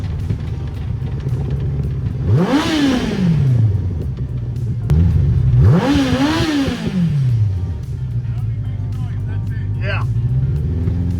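A homemade golf cart's engine revs up and drops back twice during a test drive on bad tires, the loud rising and falling whine close by with a steady rumble between passes and voices talking over it.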